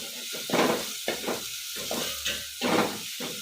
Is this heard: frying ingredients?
yes